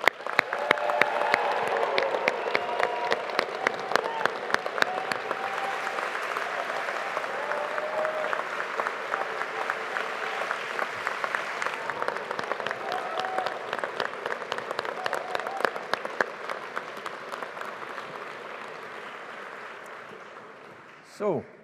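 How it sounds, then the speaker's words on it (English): Sustained applause from a graduation ceremony audience at Strathclyde Business School, a dense, steady wash of many hands clapping for about twenty seconds before tapering off. "let's give the class of 24 a big round of applause"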